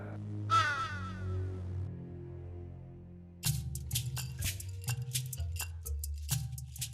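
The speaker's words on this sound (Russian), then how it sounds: "Каркнул ворон" A raven gives a single harsh, hoarse caw early on, fairly loud against a low background, followed later by a run of rapid clicking or snipping sounds over a steady low tone.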